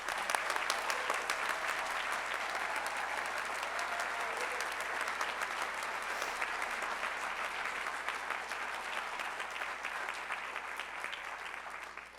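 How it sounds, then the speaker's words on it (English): An audience at an awards ceremony applauds for a long, steady stretch, with dense, even clapping from a large crowd that fades slightly toward the end and has no speech over it. "Please give them a round of applause."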